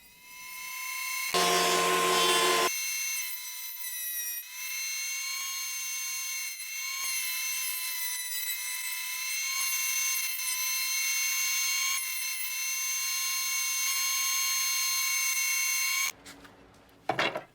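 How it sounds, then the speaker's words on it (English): A Craftsman planer planing pallet wood roars through a short, loud cutting burst, then spins on with a steady high motor whine for many seconds before shutting off, followed by brief clatter. "And I have this Craftsman Planer. It works really, really well."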